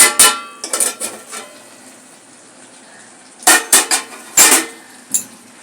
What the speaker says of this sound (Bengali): এইবারে আর একটু ঢাকা দেবো ঢাকাটা খুলছি